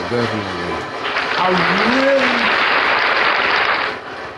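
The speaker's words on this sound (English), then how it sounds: "Let me give her a round of applause." A round of applause starts after a brief voice, with dense clapping building and holding steady for a few seconds before fading, heard from a podcast-style talk setting.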